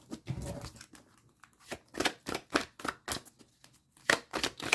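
Tarot cards being shuffled by hand, a series of crisp riffling bursts and soft slaps in an irregular rhythm, close and fairly quiet, with a brief rustle at the start and no talk.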